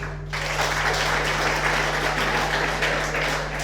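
Audience at a debating event applauding to welcome Honorable Pasco, a steady wash of clapping that begins abruptly and holds evenly over a low constant electrical hum.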